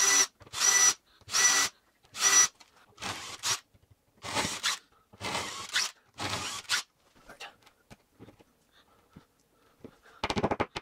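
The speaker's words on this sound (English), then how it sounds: "I'm just gonna make some quick marks with a small bit, and then I'm gonna come back with my quarter inch bit to do the rest." A power drill fitted with a small bit and then a quarter-inch bit bores anchor holes into a wall while mounting a Ubiquiti UniFi 6 Lite access point, whirring in about eight short bursts separated by pauses, close and fairly loud.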